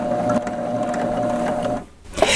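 A Babylock serger sews a chain stitch seam on a reversible placemat, a close, fast whirring hum that runs steadily, cuts off briefly, then restarts.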